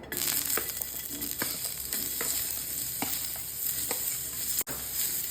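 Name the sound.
frying onion in oil for shev bhaji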